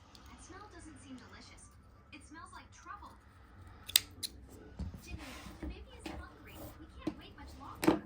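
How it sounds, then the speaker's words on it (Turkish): Scissors snip through crochet yarn at close range in a quiet room, with a few sharp cuts standing out, the loudest near the start and the end. "bu noktada ipimi keseceğim artık"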